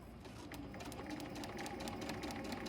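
A sewing machine stitches a quilt block for a haunted house quilt pattern, its motor running in a steady, continuous whir with a fine rapid needle chatter throughout, close and even.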